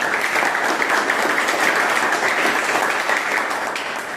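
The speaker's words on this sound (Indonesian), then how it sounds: "Kasih aplaus buat teman-teman." Students in a classroom clap together in dense, steady applause that holds evenly throughout and fades slightly near the end.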